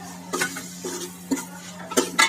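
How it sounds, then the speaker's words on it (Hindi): Mashed peas and mashed potatoes are stirred into a spiced masala for matar chole; a spoon scrapes the pan in a few close, uneven strokes over a low steady hum, with no talking. "इसे अच्छी तरह से मिक्स कर लेंगे"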